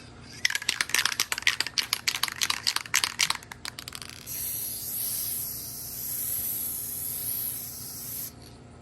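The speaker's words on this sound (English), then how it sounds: "Now we've got the crystal clear Krylon spray." Rapid clicky rattling of a Krylon Crystal Clear spray can for a few seconds, then a steady loud aerosol hiss sprays clear coat onto a toy figure helmet for about four seconds before cutting off.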